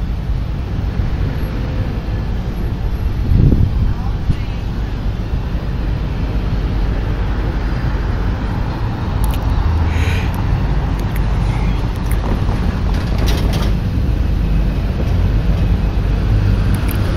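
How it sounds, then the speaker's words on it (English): Durango and Silverton steam locomotive blowing off steam, a loud continuous hissing roar filling the scene, with a brief low thump early and steady rushing noise throughout. "Oh, he's still blowing off steam."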